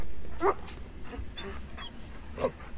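A dog in a cutscene from the video game Ace Combat 7 gives a few short, separate yips and whimpery barks, spaced out and fairly near, over a faint background hum.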